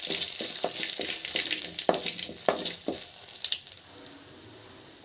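Curry leaves with mustard seeds and split gram frying in hot oil for a carrot stir-fry, a crackling sizzle with sharp spattering pops that ease off toward the end.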